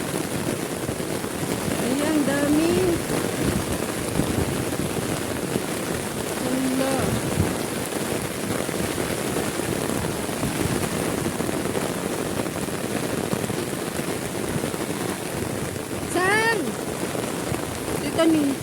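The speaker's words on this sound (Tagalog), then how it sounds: "Hala, yung umuulan oh." Heavy rain pours down outdoors while snake beans are being harvested, a dense steady hiss with wind gusts buffeting the microphone and occasional faint voices.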